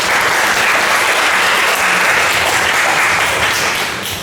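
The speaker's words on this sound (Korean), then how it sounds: "우리 한번 박수 치시죠." A Sunday church congregation breaks into loud, close applause, many hands clapping in a thick, even roar that carries on steadily for about four seconds before easing off slightly.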